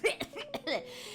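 A voice imitates a bad fit of coughing coming from another room, a short run of harsh, loud bursts with breathy, throaty sounds between them.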